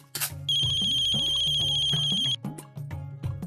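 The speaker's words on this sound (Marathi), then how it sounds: "अगं घे की फोन." A phone ringtone shrills in a domestic scene, a steady electronic trill holding for about two seconds over lower background sounds and brief rustles, close and fairly loud, with no one speaking over it.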